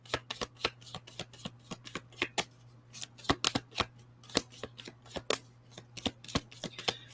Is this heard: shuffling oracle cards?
yes